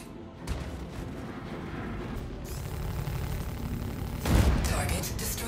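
Ships blow up in the Star Citizen space game with heavy booming blasts over a dense, rumbling roar, ending in a louder explosive burst, with a voice speaking partway through.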